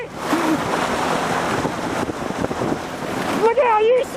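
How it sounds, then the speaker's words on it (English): Water splashes and surges on a lake beside a boat, a continuous washing rush mixed with wind, while people shout and talk over it toward the end. "Quit splashing me!"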